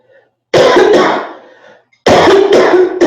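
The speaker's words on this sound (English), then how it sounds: "Is the coughing part of the release?" Two loud, harsh bouts of coughing, each a pair of rough hacks close to the microphone, separated by a short quiet gap.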